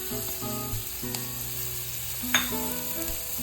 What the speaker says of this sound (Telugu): కొంచెం బటర్ మెల్ట్ అయినాక దాంట్లోకి మనం ముందుగా తురుము పెట్టుకున్న క్యారెట్, క్యాప్సికమ్ ఇవన్నీ వేసేయాలి